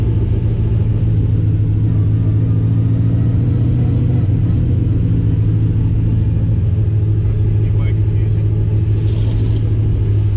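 A work truck with a sequential gearbox rumbles loudly and continuously while driving, a dense low engine drone with road noise filling the whole stretch and no clear speech.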